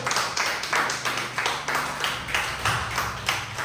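A church congregation claps together at a Spanish-language service, the rhythmic hand claps coming in regular pulses throughout, fairly loud and reverberant in a large room.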